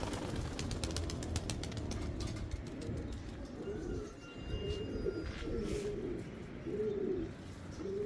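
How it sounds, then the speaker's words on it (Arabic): Blue pigeons coo in a rooftop pigeon loft, with low, rolling calls repeating close by, a few sharp clicks and some mechanical rattling at the start, and no talk. "حمامة الزرقاء"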